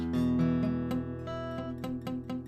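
A strummed guitar chord with the first finger touching the second string, ringing in repeated strums with a faint buzz in the sustain, close and clear with no talking.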